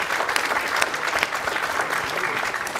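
Dense applause from a congregation during a synagogue service after a Fiddler on the Roof performance, steady and moderately loud, with a faint voice beneath it.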